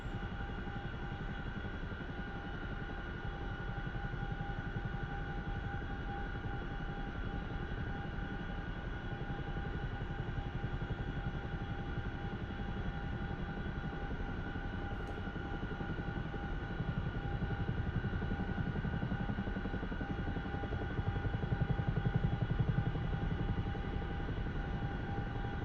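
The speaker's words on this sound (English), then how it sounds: "Just a Westland helicopter, nothing special." Westland helicopter flying in the DCS World combat flight simulator, a steady droning rotor and engine hum with constant whine tones holding for the whole stretch, loud and unbroken with no talk.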